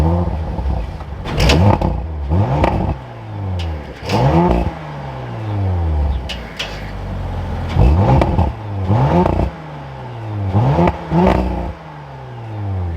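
A 2024 Audi RS5 Coupe Competition engine fires up and settles, with a series of rising revving pulses and clattering mechanical bursts spaced every second or two, heard close and fairly loud with no speech.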